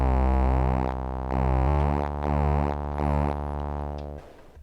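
Sustained electronic tones from a Cre8Audio East Beast synthesizer, a pure sine hum layered with a buzzier square wave, swelling and shifting in pulses before cutting off abruptly.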